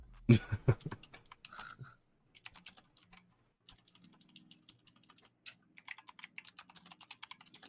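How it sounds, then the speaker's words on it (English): Rapid, clattering keystrokes on a computer keyboard come in quick bursts with short pauses between them, close and fairly quiet. "Noisy ass keyboard."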